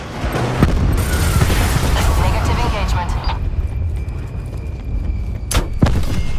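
Call of Duty Black Ops 4 aircraft strafing run: a dense, loud roar of rapid gunfire and impacts, with a few sharp cracks near the end, while radio-style voices speak over it.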